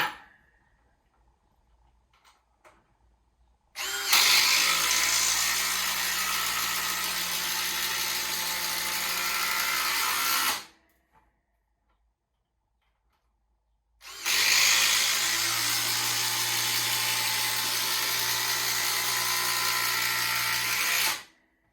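A Ridgid impact driver sinking LedgerLok screws into a chunk of 4x6 lumber, two long, loud, continuous runs of about seven seconds each separated by a quiet pause.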